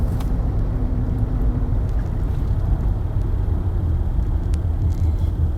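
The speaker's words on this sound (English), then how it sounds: "This dude right here in this big ass truck driving crazy, bro" A big truck being driven recklessly on the road makes a loud, steady low rumble of engine and road noise that fills the whole stretch, close and unbroken.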